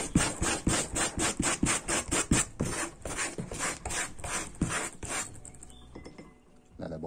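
Stiff brush scrubbing the fabric roof headliner of a Renault Megane, a fast run of rhythmic rasping strokes that stops after about five seconds, leaving quiet handling noise.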